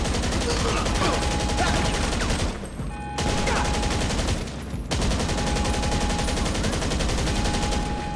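Dense, loud gunfire in GTA 5 rattles almost without a break as automatic weapons spray continuously, with only two brief lulls in an otherwise unbroken barrage.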